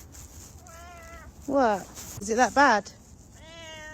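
Bagel the cat lets out several loud, drawn-out meows in close succession, a mid-clip burst of strained yowls between softer mews, while a person speaks nearby.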